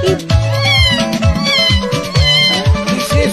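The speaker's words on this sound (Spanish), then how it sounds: "Creo que es un gato." A cat meows repeatedly in loud, close, wavering cries over a low rhythmic backing, with several calls running together.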